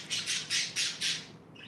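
Pet birds squawk in a room, five loud harsh calls in quick even succession, close by and alone, then fading out.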